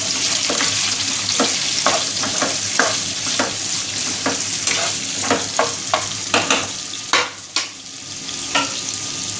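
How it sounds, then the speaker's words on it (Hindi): Chopped tomato, onion and capsicum frying in hot ghee, a steady sizzle broken by repeated stirring scrapes and clanks of a utensil in the pan, close and loud, with no talking. "अब इसी घी के अंदर टमाटर, प्याज और शिमला मिर्च जो हमने काट के रखी हुई थी इनको फ्राई करेंगे"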